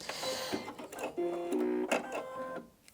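Brother Innov-is NV2700 sewing and embroidery machine stitching, a close mechanical whir with steady tonal hum and short bursts of rapid needle clatter, stopping and restarting a few times.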